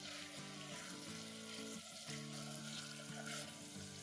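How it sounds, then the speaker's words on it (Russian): Chicken fillet and mushrooms fry in oil in a pot, a steady, close sizzle with a watery, hissing texture that continues evenly without pauses and with no speech. "выкладываю грибы и обжариваю вместе с филе"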